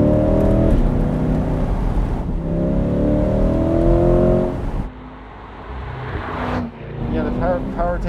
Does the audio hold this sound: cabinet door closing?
no